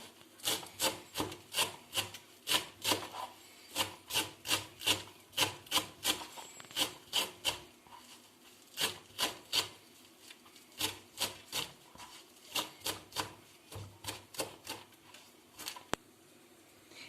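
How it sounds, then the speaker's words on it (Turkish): A knife finely chopping parsley on a wooden board, a long run of rhythmic close taps and scrapes in quick bursts with short pauses, alone and fairly quiet. "Şimdi böyle yarım bağda maydanozum vardı. Onu da ince ince kıyıyorum."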